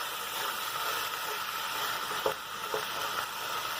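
Beef and bean burrito filling sizzles steadily in a pan while a utensil stirs it, with a couple of soft scrapes over the constant hiss of frying.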